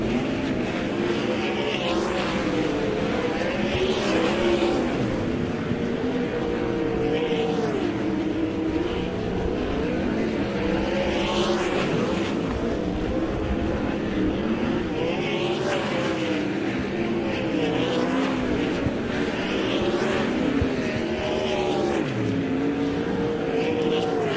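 High Limit Racing sprint cars run hot laps at East Bay Raceway Park, their loud engines roaring continuously, with cars repeatedly surging past in waves of rising and falling pitch.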